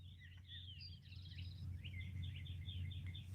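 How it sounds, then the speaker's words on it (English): Birds sing outdoors on a morning: bright chirps and trills repeat throughout at moderate distance over a steady low hum, and nobody speaks. "can you hear the birds?"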